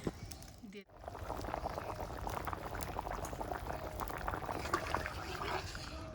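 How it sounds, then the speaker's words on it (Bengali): Boal fish curry broth boils in a pot, bubbling and gurgling steadily up close after a brief quiet moment at the start. "আমার ঝোলটা মোটামুটি ফুটে গেছে"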